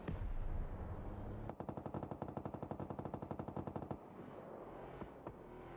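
Rapid mortar fire in a competitive video game match, a loud, dense burst of evenly spaced thuds lasting a couple of seconds, preceded and followed by rumbling game noise and a few scattered impacts.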